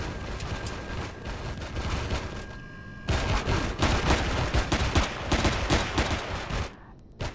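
Dense gunfire from players in the game Empyrion, rapid overlapping shots and bursts firing almost nonstop, loud and close, with a brief lull partway through.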